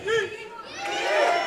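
A pro wrestling crowd at an indie show cheers and shouts together, a loud, swelling roar of many voices rising toward the end.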